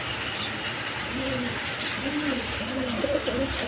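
A pair of lace pigeons coos in repeated low, throaty phrases close by, the cooing recurring steadily against a constant background hum.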